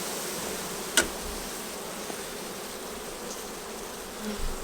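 A soft, steady buzz of honey bees hangs over an opened hive during a weekly inspection, with one brief click near the start.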